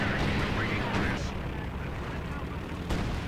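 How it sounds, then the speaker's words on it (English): Artillery fire in a Company of Heroes 2 battle on the Across the Rhine map, low rumbling blasts and a sustained booming wash under a commentator's voice, fairly quiet overall. "We have artillery coming down"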